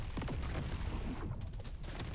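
Loot bugs bursting in the video game Deep Rock Galactic, a dense crackle of rapid popping blasts under continuous low rumble, steady and loud across the whole span with no talk.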